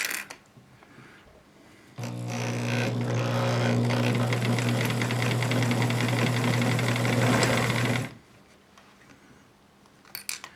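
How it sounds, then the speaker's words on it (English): Bernina Record 830 sewing machine stitching a zippered pouch at minimum speed, a loud steady mechanical whir that starts abruptly, runs about six seconds and stops, with quiet handling noise before and after. "And I'm sewing this on the minimum speed here."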